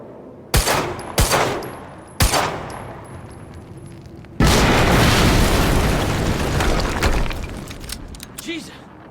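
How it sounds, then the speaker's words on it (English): Explosions and gunfire in the video game Quantum Break, with several sharp booming blasts followed by a long, loud roaring burst that slowly fades. "HQ, we just heard an explosion near the harvesting perimeter."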